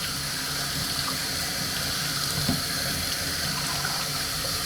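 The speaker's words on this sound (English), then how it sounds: "you want to use cold water without any soap in the filter" Cold tap water runs steadily over a Bissell 2259/2252 vacuum filter as it is rinsed. The rushing splash is close, loud and unbroken, with no voices.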